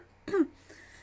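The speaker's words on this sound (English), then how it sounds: "I've got a bit of a cough today." A single short cough or throat clear, close to the microphone, followed by quiet.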